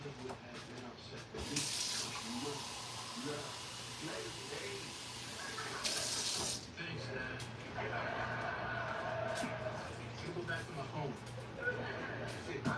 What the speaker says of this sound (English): I'm gonna put some more water in it.